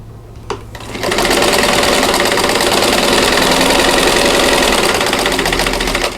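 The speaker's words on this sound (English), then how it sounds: "I'm going to sew on that drawn line" A sewing machine stitching a quilt block along a drawn line, starting after a click and running in a fast, steady, loud mechanical whir close by for several seconds.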